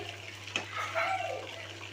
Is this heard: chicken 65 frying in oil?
yes